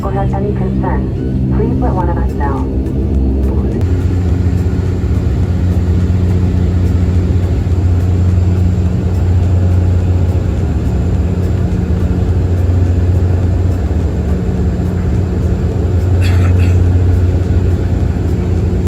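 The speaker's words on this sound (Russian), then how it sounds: "По Канаде используют турбопропеллерные самолеты. Шумные в салоне. Очень шумные." Loud, constant droning hum inside a turboprop airliner cabin in Canada, a deep steady rumble with a pulsing low tone and some brief clatter near the start.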